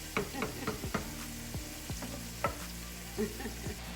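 Spice paste masala for a spicy eggplant dish frying in a pan, with a soft sizzle under repeated scraping stir strokes of a spatula at an uneven rhythm, close and fairly quiet.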